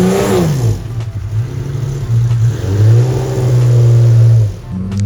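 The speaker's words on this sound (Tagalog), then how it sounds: "Grabe yung tunog ng kotse na to." An RWB car engine revs repeatedly, rising and falling in pitch with a loud, throaty mid-range roar, ending with a drop-off and a short renewed rev nearby.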